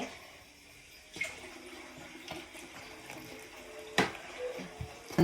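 Water poured little by little into potato bonda batter while it is mixed, a soft trickling splash over a low hum with a few louder knocks and sloshes.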